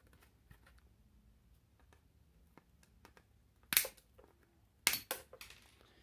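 Two sharp snips as component terminals are clipped off a Brastemp appliance interface circuit board with a faulty tactile button, close and distinct against a quiet background with faint small clicks.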